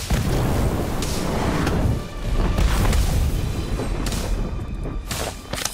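In a Harry Potter video game, the Incendio fire spell is cast during a duel with spiders around: a dense, roaring burst of fiery game noise with several booming hits, one dip partway, then more blasts.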